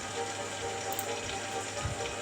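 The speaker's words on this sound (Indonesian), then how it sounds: "Nah, ini suasananya hujan." Steady rain ambience in the city-building game Cities: Skylines, a soft continuous patter of falling rain across a town at low volume, with no voices.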